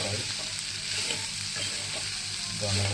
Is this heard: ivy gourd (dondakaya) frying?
yes